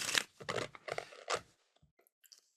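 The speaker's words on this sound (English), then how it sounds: "let's shuffle it up and see if we get anything deeper" Tarot cards shuffled by hand in several brisk riffling bursts, close and crisp, then a few faint soft ticks as the deck settles.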